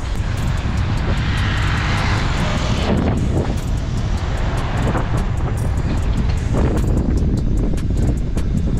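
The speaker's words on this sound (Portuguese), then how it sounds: "Tá muito frio, tá ventando." Wind roars into the microphone as someone rides a bike outdoors on a cold, windy day, a loud continuous rumbling buffet with gusting surges and no clear speech.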